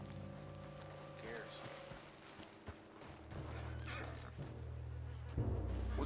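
A horse in the open-world game Red Dead Redemption 2 gives a whinny, heard over steady low ambient hum and hoof clops, with a sharp thump near the end.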